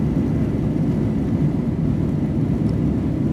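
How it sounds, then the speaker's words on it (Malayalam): A steady, loud airplane engine drone fills the cabin as the aircraft descends on approach to Himafushi island in the Maldives. "ഹിമാഫുഷിയുടെ സമീപമെത്തുന്നതോടെ വിമാനം താഴ്ന്നു തുടങ്ങുകയായി."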